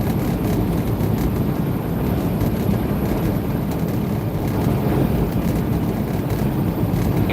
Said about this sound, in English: I know y'all can hear that wind